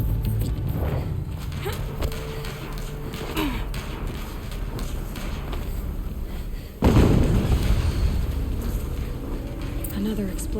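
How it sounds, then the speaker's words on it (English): Another explosion in Horizon Zero Dawn lands as one sudden heavy boom late on and rolls on as a lingering roar, after a stretch of muffled game noise with voices talking. "Another explosion."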